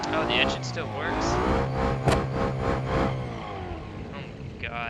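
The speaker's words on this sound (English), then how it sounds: "Oh, the engine still works?" Engine of a badly wrecked 1974 Pontiac Trans Am in the BeamNG.drive video game keeps running with a steady, droning hum, while someone talks excitedly over it.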